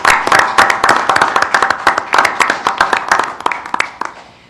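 A roomful of people clapping for scholarship recipients, brisk close-up claps in a lively burst that gradually thins and fades out.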